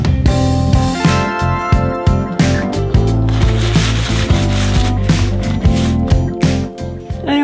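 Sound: new sander sanding wood in attic

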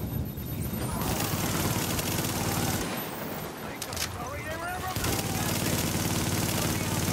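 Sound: gunfire in a video game (Tomato Team: Rogue Chronicles)

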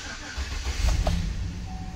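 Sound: 2007 GMC Yukon engine starting

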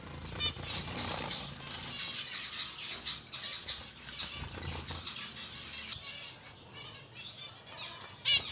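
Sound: young birds with yellow beaks, wings flapping

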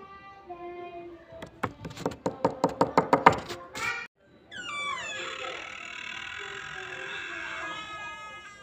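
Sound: knocking on a door in a video game

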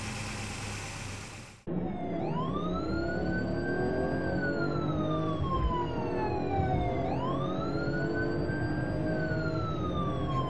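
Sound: police car siren

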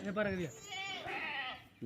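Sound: Kodi goats and sheep bleating

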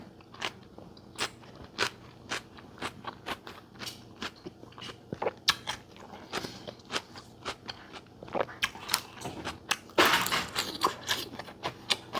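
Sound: crunchy chewing of sour shrimp salad with fresh vegetables

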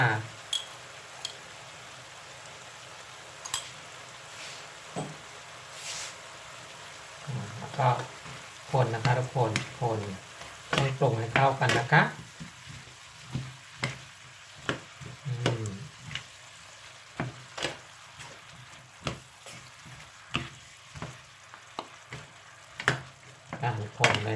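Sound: stir-frying mixed mushrooms with ginger and basil in a pan

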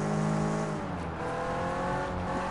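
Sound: car accelerating in Sleeping Dogs video game

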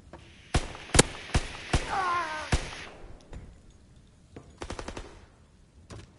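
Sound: gunfire in WWII video game

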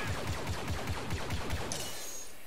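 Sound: blaster fire from stormtroopers in Star Wars Battlefront video game

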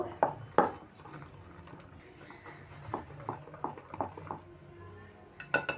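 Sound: mixing pitha batter with salt and baking powder in bowl

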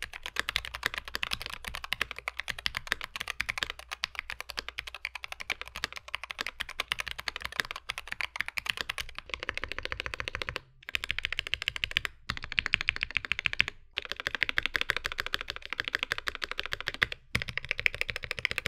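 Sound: typing on modded Wooting 60HE keyboard with zip fit foam

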